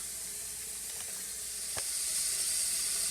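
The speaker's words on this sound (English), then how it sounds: "So we're putting some water in the other side" Cold tap water pours into a kitchen sink to fill it for washing collard greens, a steady close hiss with a few faint knocks.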